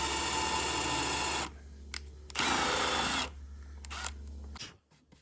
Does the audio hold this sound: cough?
no